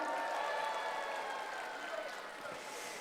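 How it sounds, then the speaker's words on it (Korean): An audience at a Gwangju civic forum launch ceremony applauds lecturer Professor Park Gu-yong, a steady, dense wash of many hands clapping at close range that holds for the whole stretch and eases slightly toward the end. "열정 넘치는 강연해 주신 박구용 교수님께 여러분 다시 한번 큰 박수 부탁드립니다."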